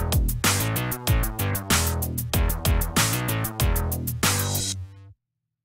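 An FM synthesizer bass plays a punchy, rhythmic pattern of repeated plucked notes with bright attacks, followed by a sustained low note that cuts off abruptly, with a faint background hiss running underneath.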